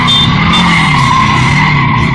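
Tires of a 200-plus horsepower factory motorcycle skid sideways at a local dealership, a loud, continuous screeching squeal with steady engine drone beneath it, sustained without a break.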